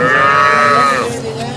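A cow moos once, loud and close, in a long drawn-out call that fades toward the end, heard at a cattle market in Sangola.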